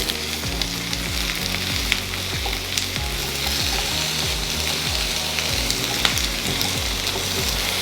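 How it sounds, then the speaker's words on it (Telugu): Pieces of bottle gourd and green chillies fry in hot oil, a loud steady sizzle with crackling pops throughout and repeated short low scraping strokes of a spatula, alone without voices. "పచ్చిమిర్చి కొంచెం వేగిన తర్వాత సొరకాయ ముక్కలు వేసుకోవాలి"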